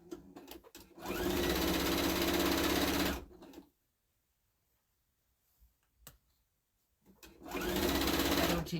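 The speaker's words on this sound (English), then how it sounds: "let me sew this together" A sewing machine stitches fabric for an Easter bunny basket in two loud, steady whirring runs close by, separated by a long quiet gap with a few small clicks.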